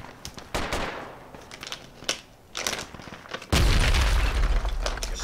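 Gunfire in the Project Reality tactical shooter game, scattered shots and bursts at first, then a sudden loud, dense barrage with heavy low booms that keeps going to the end, no talking over it.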